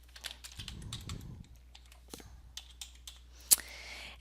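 Password typed on a computer keyboard: a quick run of close, light key clicks with a denser burst early on and a sharper single click near the end, with no talking.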